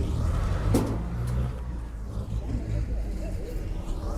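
A vehicle engine rumbles low and steady while a load is unloaded at the Yeola horse market. The engine swells briefly early on, and people talk nearby over the running motor.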